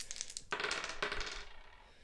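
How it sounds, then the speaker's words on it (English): Three dice tumble and clatter onto a table during a Cthulhu: Death May Die board game session, a few quick rattling bursts settling within two seconds, close and quiet with no talk. "So let's have her roll her 3 dice."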